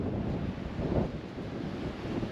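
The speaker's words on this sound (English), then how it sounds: "It is windy today." Loud, continuous blizzard wind in South Dakota roaring and buffeting the microphone, a dense low rumble with gusty surges and no voices.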